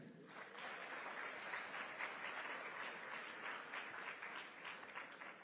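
An audience at a creative career expo in Jamaica claps steadily as a guest takes the stage, a dense, even wash of many hands heard from a distance and fairly faint, with no talk over it.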